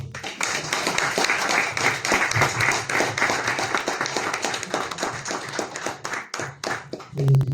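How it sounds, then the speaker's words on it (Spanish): Applause from a literary event audience for writer Walter Lingán, many hands clapping in a steady patter that runs for several seconds and fades toward the end, with a voice starting up at the close. "yo voy a pedir a todos ustedes un gran aplauso para Walter Lingán"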